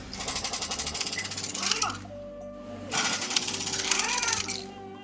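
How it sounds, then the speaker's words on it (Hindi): A mechanic loosens the wheel nuts on a Maruti Suzuki Alto with a power tool, which gives two loud rattling bursts split by a brief lull, with a voice heard faintly in the background. "टायर खुलने का प्रोसेस स्टार्ट हो चुका है।"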